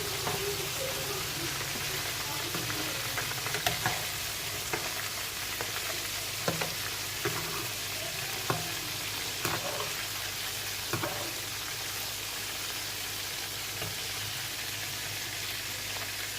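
Chicken broast fries gently over a low flame, a soft steady sizzle and bubbling hiss with occasional light clicks of stirring, fairly quiet and without voices.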